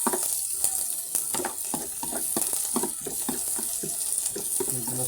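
Chicken wings for paksiw fry in a pan while being stirred, a continuous sizzle broken by regular scraping strokes of the spoon against the pan, close and moderately loud with no voices.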